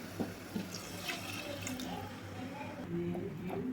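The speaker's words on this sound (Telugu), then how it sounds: "నేను కొంచెం మిక్సీ జార్లోనే వాటర్ పోసి పోస్తున్నాను" Water pours and splashes in a steady stream into a mixer jar, with a faint hum in the background.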